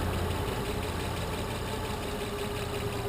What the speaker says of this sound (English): Listen how quiet this engine is.